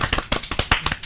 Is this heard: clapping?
yes